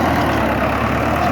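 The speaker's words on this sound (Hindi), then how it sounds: "चालू हो गया काम, देखो चल पड़ा रोटावेटर" A Farmtrac 6060 tractor running a 7 ft rotavator in a field gives a steady, loud, continuous engine drone with no breaks.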